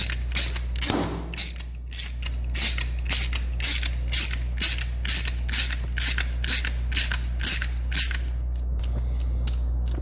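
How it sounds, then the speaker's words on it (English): Bolts for a 1995 Honda Foreman 400 ATV being run through a thread tap, giving a steady series of sharp metallic ratcheting clicks in regular bursts, close and distinct over a low background hum. "Also running the bolts through a tap there"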